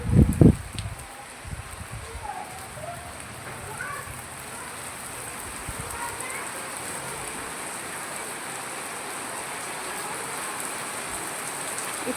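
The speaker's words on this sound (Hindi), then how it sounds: "बारिश तो आज इतनी ज़बरदस्त हो रही ना, बस पूरा दिन हो गया, बिल्कुल बारिश रुकने का नाम नहीं है।" Heavy, steady rain pours down through a long, unbroken wash, with a few louder knocks near the start and faint movement behind it, and no talk.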